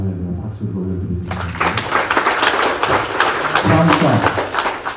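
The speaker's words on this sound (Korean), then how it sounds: "주님께 영광의 할렐루야 박수를 올려드립니다" A church congregation at a spring revival service applauds in a dense, sustained burst that starts abruptly after a voice from the pulpit, with voices heard under the clapping.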